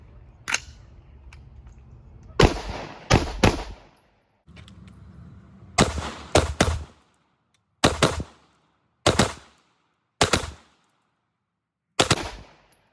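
A gun test-firing a magazine, with sharp gunshots in bursts and singles, some in quick doubles and triples, separated by short silences, loud and close.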